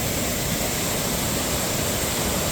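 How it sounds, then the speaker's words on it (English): Waterfall in the Adirondacks, swollen with heavy seasonal flow, roars as a loud, steady, dense wash of water close by, filling every moment without any break or voices. "there's this much water coming through the waterfall at this time of year"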